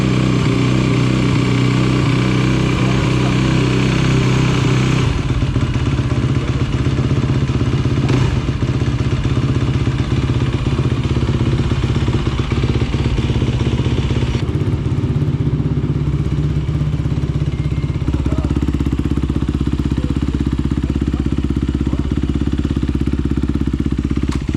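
A Honda CRF 250 dirt bike engine runs cold, a loud continuous rattling drone with clattering and shifts in pitch as a little throttle is given, no voices over it.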